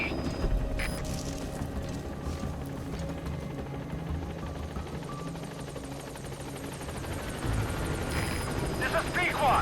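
B-Quad support helicopter arriving at a landing zone in Metal Gear Solid V, a steady rotor drone with engine whine throughout, a voice speaking briefly over it.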